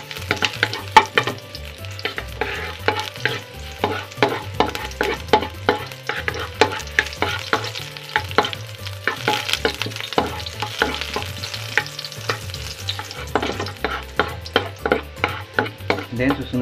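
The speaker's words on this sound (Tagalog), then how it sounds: "napainit lang ako ng mantika sa kawali. Uunahin ko na dito yung luya." Ginger frying in hot oil in a pan for sinigang na bangus sa miso makes a steady sizzle, with frequent close scrapes and clicks of stirring over it throughout.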